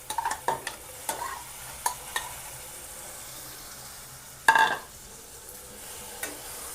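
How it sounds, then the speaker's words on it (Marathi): Prawns stirred and fried in a pan with spices, a low sizzle under a series of sharp metallic scrapes and knocks from a spatula, with one louder clatter midway. "आता आपण याच्यामध्ये हे सगळी कोळंबी टाकून घेणार आहोत।"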